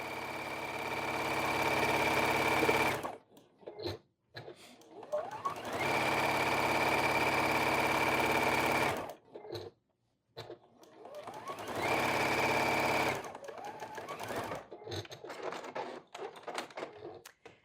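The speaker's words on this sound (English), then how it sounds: "just running a 1/4 inch seam all the way around" A sewing machine stitches a quarter-inch seam around a flannel coaster. It whirs in three long steady runs, separated by short pauses with faint handling clicks, close up with no voices.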